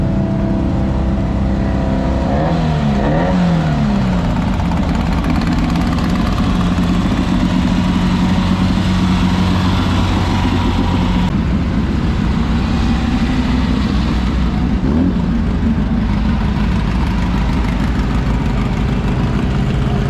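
Motocross race bikes running at a nearby race, a continuous loud engine drone with rising and falling revs throughout.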